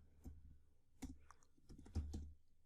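Code being typed on a computer keyboard, a few soft, fairly faint keystroke clicks in an uneven rhythm, with no voice over them.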